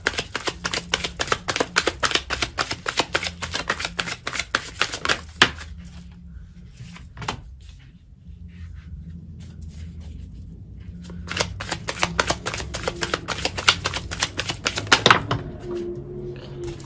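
Tarot cards being shuffled, long rapid riffling runs of crisp clicking card flicks, close and clear, with a quiet gap in the middle before a second burst.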